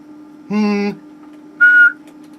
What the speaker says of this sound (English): Whistle and hum at the same time.